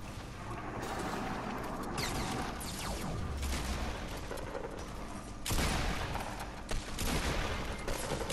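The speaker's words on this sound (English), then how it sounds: "someone's shooting us" Gunfire in the video game Fortnite: rapid bursts of shots and booming impacts in irregular volleys, loud and close, with intermittent breaks between salvos.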